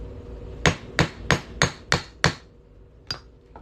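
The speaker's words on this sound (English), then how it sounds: "I personally like to use a 1/2-inch punch. And we're just going to hammer that on through here." A 1/2-inch punch is hammered through a 1994 quarter, with six sharp, evenly spaced metallic strikes close up, a pause, then one last blow.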